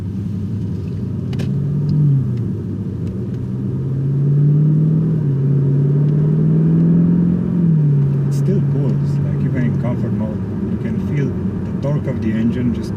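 An Audi S8 V8 in comfort mode with its exhaust flaps closed rumbles along at very low revs, a deep, steady drone that swells gently and settles, with faint clicks over it.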